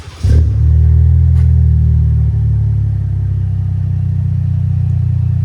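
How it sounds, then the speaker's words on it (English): A 2025 RAM 1500 with a 3.0L Hurricane inline-six and a Flowmaster Super 44 exhaust revs up hard, then holds a loud, deep, steady exhaust drone close by, dipping slightly partway through. "next, we're gonna do the Flowmaster Super 44."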